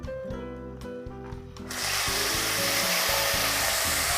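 Klotok fish frying in hot oil, a loud dense sizzle that surges in after a stretch of music and holds steady to the end.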